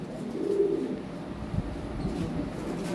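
Lahori pigeons coo softly in low, throaty murmurs, a few overlapping calls close by against quiet background noise.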